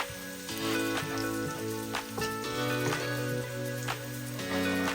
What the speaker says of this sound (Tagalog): Nagisa lang tayo ng ahos or bawang.